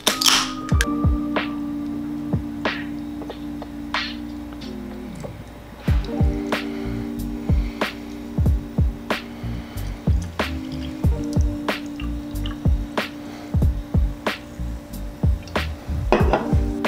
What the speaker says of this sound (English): Let's give this thing a pour.